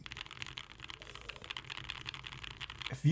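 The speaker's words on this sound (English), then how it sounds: "if someone made a keyboard where all the switches sounded like this home row, this might be end game sound." Mechanical keyboard with home row switches being typed on, a steady run of close, crisp keystrokes throughout, ending in a louder thump.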